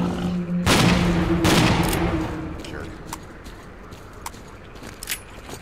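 Gunfire in the video game S.T.A.L.K.E.R.: Clear Sky, two heavy bursts of shots close together followed by scattered fainter single cracks, under a player talking.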